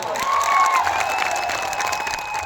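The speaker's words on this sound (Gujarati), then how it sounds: "આનંદભાઈ પટેલ સાહેબ માટે જોરદાર તાળીઓ પાડ લઈએ" Applause from an audience at a political rally for a leader, with a close, steady patter of clapping from a crowd, a faint whistle rising over it and a thin tone lingering throughout.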